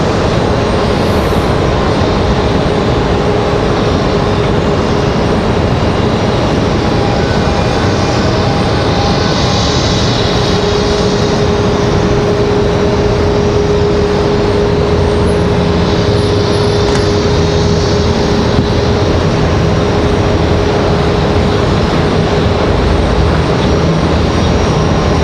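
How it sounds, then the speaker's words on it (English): An American airliner taxis at Raleigh Durham airport, its engines giving a steady, loud, continuous roar and whine that holds level throughout, heard from nearby with no talk. "So they're taxiing out just in front of us here on the opposite side of Terminal 2."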